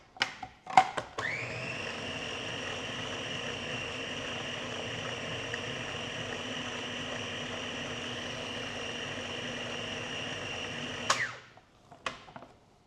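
A food processor whirs steadily for about ten seconds while mincing raw chicken, a loud continuous motor hum with a high whine, framed by clicks and knocks as it starts and stops.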